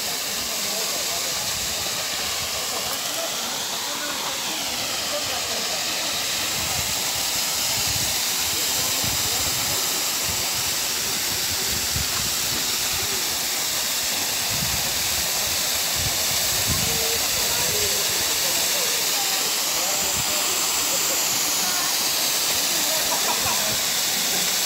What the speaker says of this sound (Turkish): Evet, şelalemiz gürül gürül akıyor.